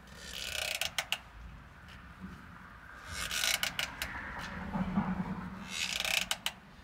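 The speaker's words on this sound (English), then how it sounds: "everyone with a bus should have a strap wrench, because it's one wrench and it'll fit all your favorite filters" A strap wrench ratchets while turning a round filter on a Cummins school bus, giving clusters of sharp close clicks in several bursts between quieter creaking pauses.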